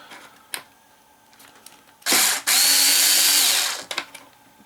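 Power screwdriver loosening screws on a Heng Long Leopard 2 A6 RC tank during a metal upgrade, one loud close burst of whirring lasting about two seconds after a short blip, with quiet handling clicks around it.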